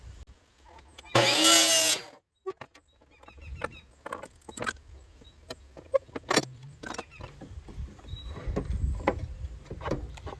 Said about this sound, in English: my miter saw is not long enough to cut all the way, so I'm going to trim right back here